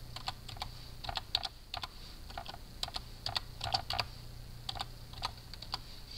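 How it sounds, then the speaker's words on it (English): Steady keyboard typing, clustered keystrokes in quick bursts with short pauses, close by over a low constant hum. "I'm just typing a message over there"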